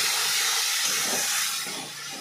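Masala spice paste sizzles and hisses loudly in hot oil with fried potatoes, for a bata fish curry, as a steady close frying roar that eases slightly toward the end, with no talk.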